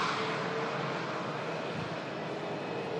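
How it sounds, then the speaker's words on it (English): Heavy airliner on final approach to runway 23 right, a steady broadband engine roar that stays loud and constant throughout with no distinct touchdown thump. "bring you this touchdown, guys, of this heavy"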